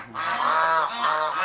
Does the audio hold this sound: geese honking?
yes